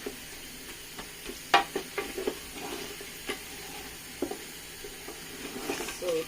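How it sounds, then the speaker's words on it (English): Onions being stirred into a frying meat sauce give a soft, steady sizzle, with intermittent scraping and clinking from a utensil against the pan, moderately close and without speech. "So I'm going to add onions, finishing touch, our finishing touch."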